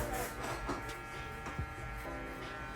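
Electric hair clippers buzz steadily at close range with a number 2 guard, working a blurry fade on curly hair, with brief shifts as the blade flicks out along the hairline.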